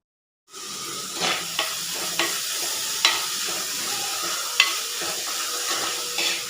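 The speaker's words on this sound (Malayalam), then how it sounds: "ആവശ്യത്തിനുള്ള ഉപ്പിട്ട് നന്നായിട്ട് ഉള്ളി വഴറ്റിയെടുക്കുക" Onions sizzle in a pan with salt for a Kerala-style prawn roast, a steady broadband fry hiss broken by repeated sharp scrapes and clicks of a spoon stirring against the pan, close and alone without talk.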